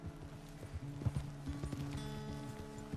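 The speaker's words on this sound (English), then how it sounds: "I thought Jack already knew how to ride a horse." Horse hooves clip-clop at a steady walking rhythm while riding in the western game Red Dead Redemption 2, close and moderately loud, with a faint voice in the background.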